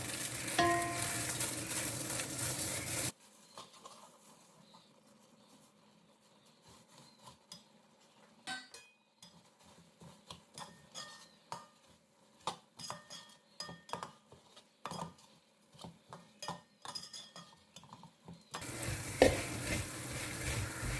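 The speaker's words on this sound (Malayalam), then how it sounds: "ശർക്കരപ്പാനി നന്നായിട്ട് തിളച്ച് വെള്ളമൊക്കെ വറ്റിയിട്ടുണ്ട്. ഇതിലേക്ക് വറുത്ത് വെച്ചേക്കുന്ന അവലിട്ട് കൊടുക്കാം." Fried rice flakes (aval) are stirred into thick, boiled-down jaggery syrup in a pan, giving irregular scraping, clinking spoon strokes and soft sizzling in a quiet kitchen, with louder bursts of noise at the start and end.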